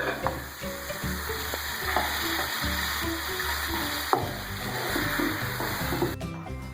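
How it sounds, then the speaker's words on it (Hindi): Tikki patties sizzle steadily in hot oil in a pan, a dense, crackling fry that continues throughout with small pops and occasional clinks. "टिक्की हमारे फ्राई हो रही हैं।"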